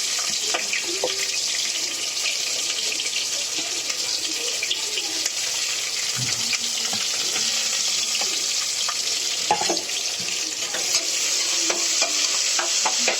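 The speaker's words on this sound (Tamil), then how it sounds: "அடுத்து வெங்காயம் போட்டுக்கலாம்." Onions sizzle and fry steadily in a hot pan for chicken biryani, a loud continuous crackling hiss with occasional stirring clinks, no voices over it.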